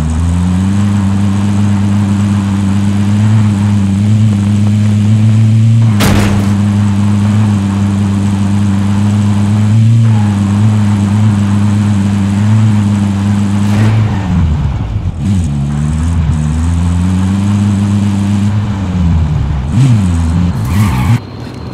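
A vehicle engine drones loudly and steadily while driving in Call of Duty Warzone, with brief clunks and impacts, then the pitch wavers and shifts as the vehicle maneuvers near the end.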